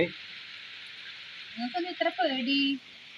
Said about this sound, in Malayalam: എന്നാ പുറത്ത് കണ്ട നല്ല മഴ പെയ്യുന്നുണ്ട്